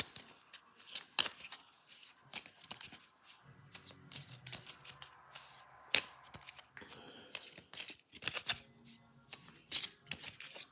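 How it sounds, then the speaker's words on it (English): A deck of game cards is shuffled by hand at close range for a wargame, with repeated crisp riffling bursts and soft card slaps in an uneven rhythm, alone without talk. "And I'm going to shuffle these."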